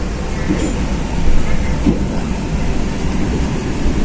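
An economy-class KA Majapahit passenger train running on rails, heard from inside the carriage as a steady low rumble and rolling hum with faint clicks, loud and continuous.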